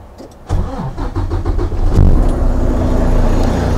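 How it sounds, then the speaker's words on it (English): A 2018 Volvo truck's D13 diesel engine with 458,000 miles cranks briefly, fires right up, and settles into a loud, steady idle close by. "D13 turns right over"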